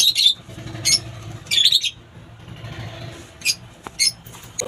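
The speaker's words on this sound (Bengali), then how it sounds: "এই যে খুব সুন্দর পায়রা আছে।" Pigeons in a home loft give short squeaky chirps and coos in several bursts close by, with a low rustling murmur between them.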